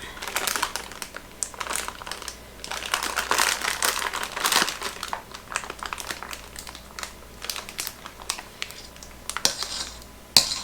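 A stiff plastic container of frozen spinach is twisted and turned inside out, giving irregular crackling and crinkling bursts close by, with scattered clicks and taps throughout.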